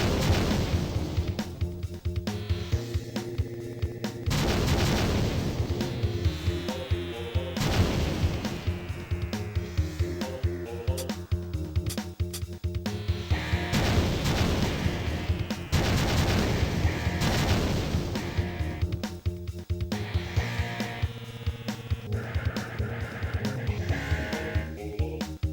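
Continuous barrage of booming electronic explosions from Missile Command on the Atari Jaguar, dense and rhythmic with repeated blasts and synth tones layered throughout, loud and without any talking.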